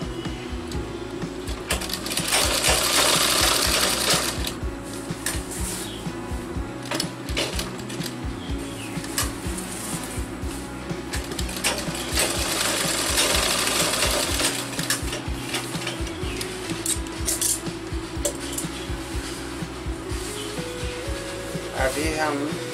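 Sewing machine stitching a kalidar salwar in a tailoring setup, a steady mechanical rattle in bursts, loudest early on, with a voice speaking over parts of it.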